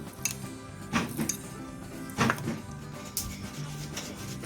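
Boiled eggs and potatoes being mashed together in a bowl for an egg cheese sandwich, with soft scraping and a few clinks of utensil on the dish, quiet and irregular.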